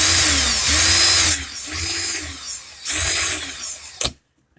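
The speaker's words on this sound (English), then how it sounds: "Keep the drill in reverse, I guess." Power drill running in reverse, twisting 26-gauge wire for razorback wire: loud, close motor whine in two long bursts with a quieter stretch between, ending in a sharp click and then silence.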